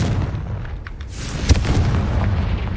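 A fiery Confringo spell blast in Hogwarts Legacy, a single sharp boom cutting through a dense rumbling game soundscape of crackling and low booming texture.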